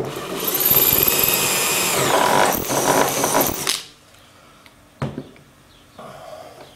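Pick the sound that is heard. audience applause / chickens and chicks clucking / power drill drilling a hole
power drill drilling a hole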